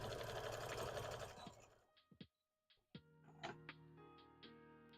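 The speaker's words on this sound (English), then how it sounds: "I'm just sewing this" A sewing machine stitches a fabric owl bear plushie, running loud and fast with a dense steady whir, then slows and stops. A few separate clicks and thumps follow up close as the fabric is handled.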